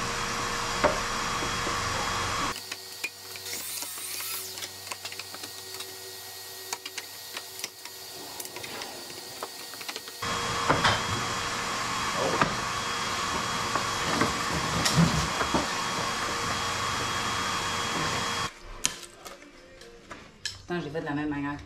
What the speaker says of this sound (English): that's where we're gonna be cutting with the jigsaw